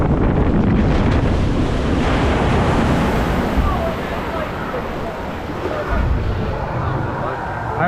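Broad, roaring rush of water as a water coaster boat hits its first splash at Cavallino Matto in Italy, loud and sustained with heavy wind buffeting on the microphone, easing slightly midway before surging again.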